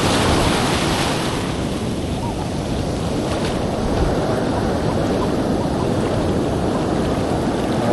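Ocean surf washing onto a beach, heard as a loud, continuous roar of breaking water with heavy wind buffeting the microphone and no clear talk.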